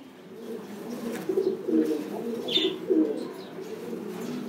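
Pigeons in a breeding loft coo steadily and close by, a continuous low rolling murmur with a short higher chirp near the middle, and almost no talking.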